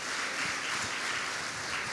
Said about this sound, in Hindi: ताली बजाइए उस बहन के लिए।